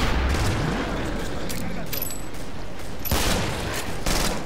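Rapid gunfire bursts in the co-op shooter game Killing Floor, loud and close, crackling continuously with sharp shots throughout and people talking over the firing.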